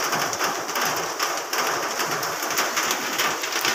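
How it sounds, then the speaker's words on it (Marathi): Monsoon rain falling steadily around a building among green rice fields in Chiplun, a close, even hiss of drops with faint bird calls mixed in and no speech. "आज चिपळूणमध्ये पाऊस खूप चालू आहे."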